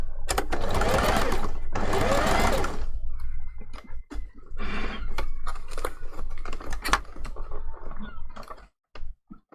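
A sewing machine stitches down an appliqué on a fursuit hand paw, running in two long loud bursts, then in shorter stop-start runs with small handling clicks and pauses.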